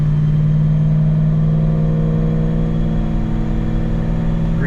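A car engine on a chassis dyno holds a steady, loud drone at 2500 RPM, a constant close-up hum with a strong low tone and no speech.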